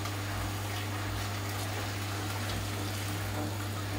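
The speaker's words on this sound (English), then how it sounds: "So put that in there, add the water." Water added to a cottage pie filling in a kitchen, a steady continuous pouring and gushing noise with a constant low hum underneath, no speech.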